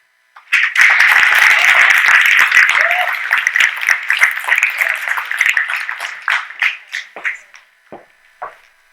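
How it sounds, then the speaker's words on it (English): An audience breaks into loud applause, a dense wash of clapping that starts suddenly, holds strong for several seconds, then thins into scattered claps and fades out. "Let's give a round of applause to everyone who's on so far."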